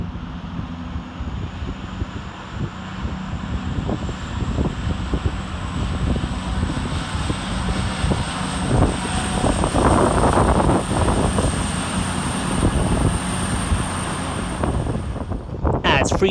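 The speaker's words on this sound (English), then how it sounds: "Next up to depart is 220007 with the 1403 cross-country service from Exeter St David's to Manchester Piccadilly via" Class 220 cross-country diesel train departing Stafford station on the Exeter St David's to Manchester Piccadilly service, a steady rumbling engine roar that builds through the clip with wind buffeting, ending in a few sharp clunks.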